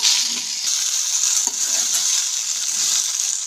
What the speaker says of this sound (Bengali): মশলাটা খুব ভালোভাবে কষানো হবে।